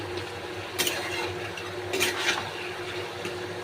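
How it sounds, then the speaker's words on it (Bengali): Small fried potato pieces are stirred in a pan for a Bengali cabbage and potato dish with katla fish head. A few soft scrapes and clatters rise over a low, quiet kitchen hum. "এবার একটু নেড়ে নিয়ে আবার একটু ধিমি আছে রেখে দেব"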